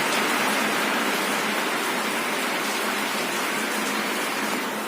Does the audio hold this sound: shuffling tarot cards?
no